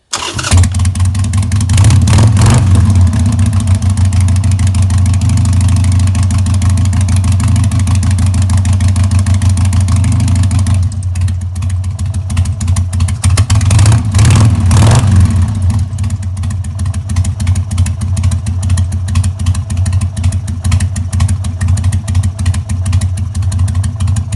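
A 2000 Harley-Davidson XL883H motorcycle, just fitted with a new ignition module, cranks and fires up, then settles into a loud, steady, close idle with a brief burst of revving partway through.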